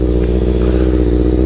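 A motorcycle engine runs loud and close in a steady, rough rumble while the idle is being set, with no talk, heard only briefly.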